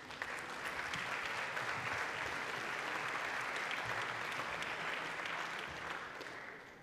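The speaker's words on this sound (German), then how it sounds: "Einen großen Applaus für dich" A conference audience greets a speaker at a talk on the ePrivacy reform with sustained, even applause, holding steady for several seconds before tapering off at the end.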